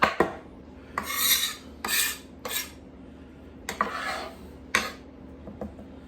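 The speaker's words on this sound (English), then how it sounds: "I always scrape it down on the rest of the knob" Knife edge scraping the peel off a fresh ginger knob in a series of short, rasping strokes, close and crisp, with brief pauses between them and no talking.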